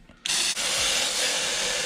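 A steady, close hiss of cleaner sprayed from a jet-setting nozzle onto a Takeda intake filter, starting abruptly after a quiet moment and continuing loud and even with one brief break.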